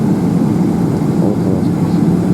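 McDonnell Douglas MD-83 airliner at an airport, a loud steady low jet roar filling the whole moment without pause.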